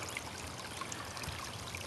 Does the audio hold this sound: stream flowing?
yes